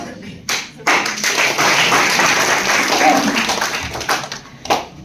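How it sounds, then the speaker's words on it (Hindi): Audience applause for two successful students at an event, a dense burst of clapping that starts abruptly, holds steady for several seconds and tapers with a few scattered claps at the end. "तो एक बार और इन दोनों जय वीरों के लिए जोरदार ताली दीजिए"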